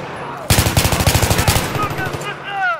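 An M16A3 rifle in Battlefield 3 cracks in a fast, loud string of about fifteen evenly spaced shots, each tail ringing into the next, then fades into a short echoing decay.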